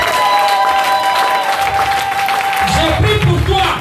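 A church congregation at a worship service applauds and cheers loudly and continuously, a dense wash of clapping and voices with a sustained tone running through it.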